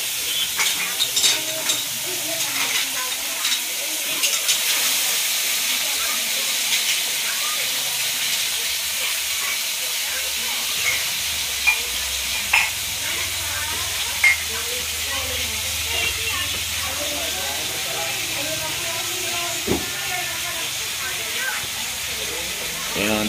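Meat for Cagayan-style igado frying and being stirred in a pan, a steady sizzle and hiss broken by scraping and clattering strokes throughout, with occasional voices in the background.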